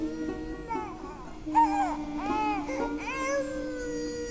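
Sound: baby crying

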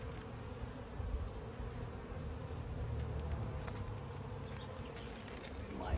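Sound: honeybees coming into a hive

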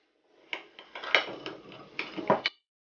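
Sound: stirring yeast with milk and sugar in a small bowl

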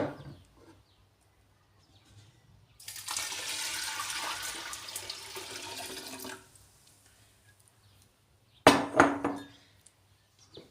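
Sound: hot water poured into cooking pot

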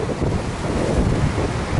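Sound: rough sea waves and wind on Miami beach

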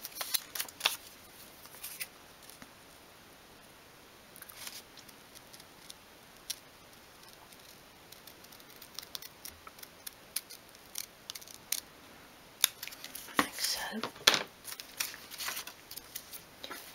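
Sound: cutting out folded paper for a miniature bed

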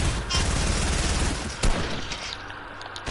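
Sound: drum gun firing in a video game

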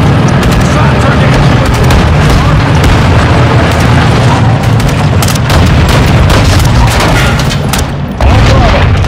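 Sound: artillery explosions in Call of Duty Modern Warfare 2 video game

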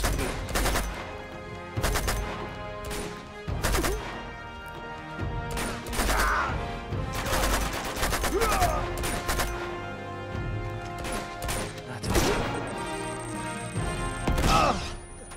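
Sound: video game three-shot gun firing

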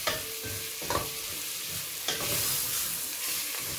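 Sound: stirring veal curry frying in pan

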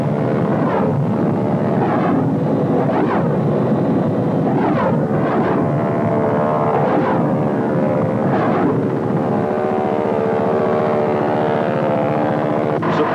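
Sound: Huey Cobra helicopter firing runs with rockets, miniguns and grenades

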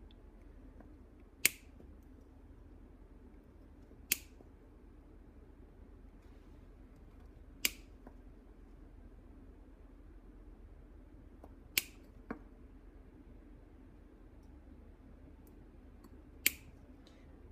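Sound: cutting solder wire into short pieces

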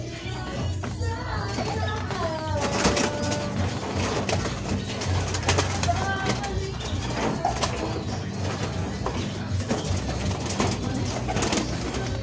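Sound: racing pigeons being handled and recovered

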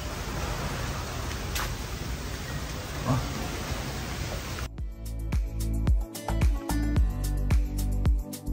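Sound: rain at a marina

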